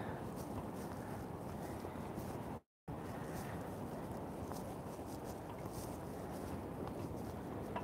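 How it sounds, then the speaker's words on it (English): Steady wind buffeting the microphone with a broad rushing roar during a Coney Island wind storm, continuous apart from a brief cut to silence. "And it's windy out here."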